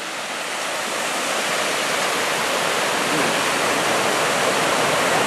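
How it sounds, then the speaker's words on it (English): Minnehaha Falls in Minneapolis roars as a loud, dense and unbroken rush of falling water, close by and steady from start to finish, with no voices over it. "And we're at Minnehaha Falls."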